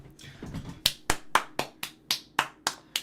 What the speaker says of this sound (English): can we get a round of applause, please, for that unbelievable submission?